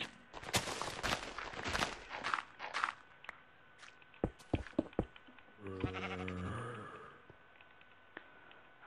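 A sheep bleats once in the Minecraft video game on Xbox 360, a wavering bleat partway through, amid clicking footsteps and sharp in-game clatter.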